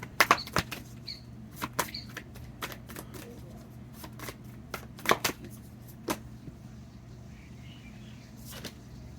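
Cards being shuffled during a card reading, a scattered series of short papery flicks and snaps, close and moderately quiet over a low steady hum, with no talking.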